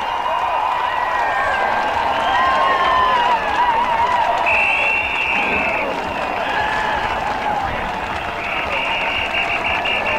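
A large crowd of demonstrators at a march in Washington cheers and claps continuously, a loud, dense roar with whistles and shouts rising over it and voices mixed in.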